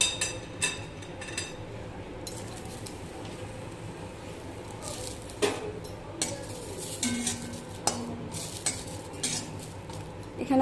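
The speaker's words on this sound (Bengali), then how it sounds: "তো আমি এবার মশলাটা ভেজে নেব। কড়াই আমার গরম হয়ে গেছে।" Spices and green chillies frying in a hot kadai for a Bengali katla fish curry, a low steady sizzle under repeated scraping stirs and metal clinks of a spatula against the pan.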